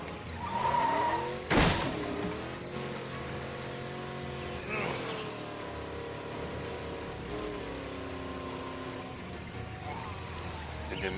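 A car skids loudly in the State of Decay 2 video game, with a sharp screech near the start, then an engine drone and tire noise carrying on at moderate level.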